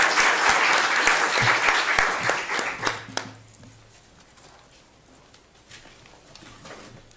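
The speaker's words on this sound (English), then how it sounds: "I would like all of you to give a large round of applause for our great panelists." Audience applause for a panel of speakers at a conference, loud dense clapping that fades to scattered claps within a few seconds, leaving quiet room noise.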